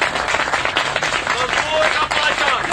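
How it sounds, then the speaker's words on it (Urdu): Steady applause from an audience of workers fills a gathering hall, close and lively, with a voice speaking over the clapping. "تمام دوستوں سے اپیل کرتا ہوں کہ تالیاں بجا کے"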